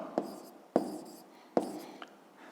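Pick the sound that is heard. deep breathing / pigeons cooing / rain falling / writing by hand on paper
writing by hand on paper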